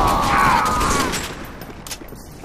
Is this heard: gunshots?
yes